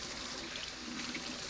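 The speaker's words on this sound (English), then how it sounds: "I rinse them off under running water and then put them in the little vinegar bath for about 5 to 10 minutes and swish them around" Freshly harvested salad greens rinsed under a running tap, a steady, even rush of water close by, with no talking.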